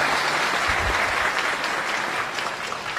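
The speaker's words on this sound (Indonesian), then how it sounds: "Kita sambut dengan tepuk tangan untuk Buya Yahya." A large gathered audience at a Sinau Bareng religious assembly applauds to welcome the preacher Buya Yahya: dense, steady clapping that fills the room at a constant level for the whole stretch.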